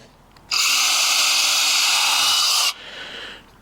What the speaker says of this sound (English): I'm just going to attach them with some screws again